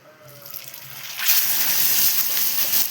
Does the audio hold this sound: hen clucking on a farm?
no